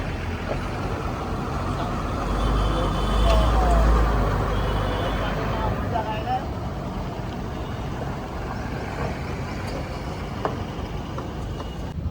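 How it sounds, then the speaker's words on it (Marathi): A large vehicle is being driven, giving a continuous low engine drone and road rumble that stays steady throughout, with voices talking over it. "धीरे एवढी मोठी गाडी कंट्रोल करणं कसं आहे"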